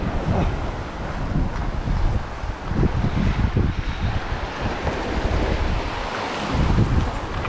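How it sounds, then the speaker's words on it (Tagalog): Constant roar of sea waves washing onto a beach, mixed with heavy wind buffeting the microphone; no talking. "Tubig yan."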